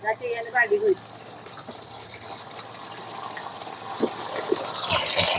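Running water gushes and splashes steadily while fresh eggplants are washed, a continuous pour that grows louder toward the end, with a voice speaking briefly at the start.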